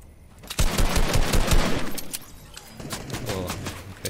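Rapid bursts of gunfire from the Fortnite video game rattle in quick succession, loud and dense at first, then thinning into scattered shots, with no voices over them.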